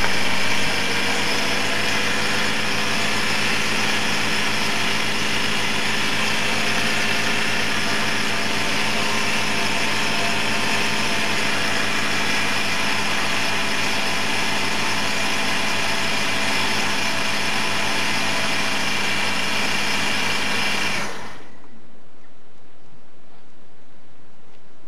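A car engine with KE Jetronic CIS fuel injection, just fitted with new injector seals, runs at a steady idle for about twenty seconds, a loud, close, even hum with a constant rushing hiss, then it cuts off abruptly.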